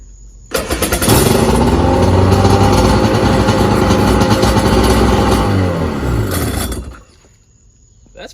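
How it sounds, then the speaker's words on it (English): A rebuilt Polaris jet ski engine fires up and runs loudly at a high idle, a steady buzzing roar lasting several seconds before it cuts off and drops away. "It is idling really high."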